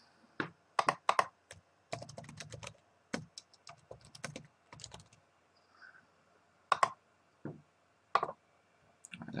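Password being typed on a computer keyboard, with quiet, close key clicks in short irregular bursts separated by brief pauses, and no voices.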